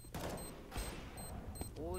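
Rapid gunfire in a Counter-Strike style competitive shooter match, several short sharp cracks in quick succession under a commentator's talk, fairly quiet overall.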